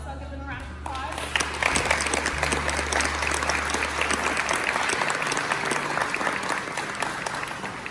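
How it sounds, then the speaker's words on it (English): Applause from a crowd at a pre-K graduation, a dense, steady patter of many hands that rises after a brief moment and carries on evenly, with faint voices mixed underneath. "So let's all give them a round of applause."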